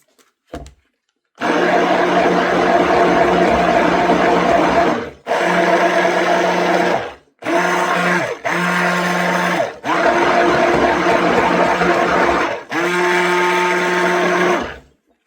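An electric mixer whirs loudly and steadily through homemade soap mixture in several long bursts, stopping and restarting with short silent gaps between runs.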